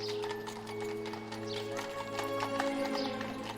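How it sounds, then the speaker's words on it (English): Horses pulling a cab in the Lamplight City video game, with steady clip-clop hoofbeats and a faint whinny over a low rumbling hum, quiet and continuous. "I'm glad that Coulson still uses horses."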